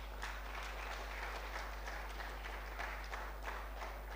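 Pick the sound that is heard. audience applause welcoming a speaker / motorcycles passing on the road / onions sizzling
audience applause welcoming a speaker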